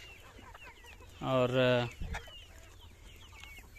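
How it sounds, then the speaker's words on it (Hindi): A four-month-old Sonali hen kept for eggs gives a single drawn-out cluck close by, followed by a brief rustle, with faint bird chirps and ambient farmyard noise around. "यह है सोनाली मुर्गी, जो कि 4 महीने के हो चुके हैं"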